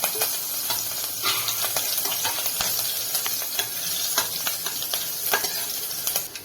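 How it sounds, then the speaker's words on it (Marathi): Cumin seeds and green chili frying in hot oil in a pan, a loud continuous sizzle with crackling pops and occasional spoon stirring, close up and without talk. "तेल तापलेलं आहे, 1 चमचा जिरं टाकून घ्यायचं, छोटा चमचा। हिरवी मिरची टाकून घ्यायची"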